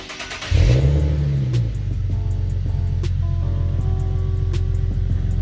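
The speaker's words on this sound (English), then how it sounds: "let's go ahead and start it up, see how it sounds, and we'll check for exhaust leaks" An Infiniti G37 with an exhaust fitted with three resonators and stock catalytic converters cranks and starts, a rising whir that catches into a revving burst, then settles into a steady, low, fairly quiet idle rumble nearby.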